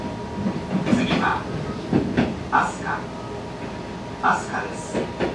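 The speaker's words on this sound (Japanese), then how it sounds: "この電車は吉野行き特急です。" Inside a Kintetsu 26000 series Sakura Liner limited express bound for Yoshino, the carriage rumbles and hums steadily with faint rail clatter, under an onboard announcement.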